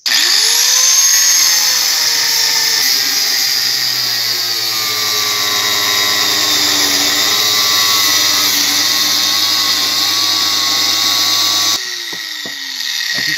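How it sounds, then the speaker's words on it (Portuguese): A power sander or grinder whines loudly and continuously while working a wooden sickle handle, its pitch wavering under load before the tone shifts near the end. "Vou estar usando essa lixadeira aqui para estar nos auxiliando aí."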